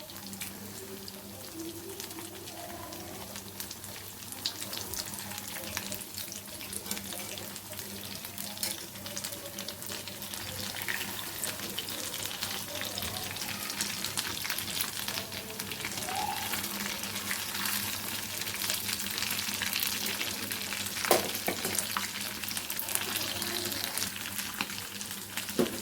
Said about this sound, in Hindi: अब इन्हें 1 मिनट एक साइड से और 1 मिनट दूसरी साइड से पकाते हैं, फ्राई करते हैं।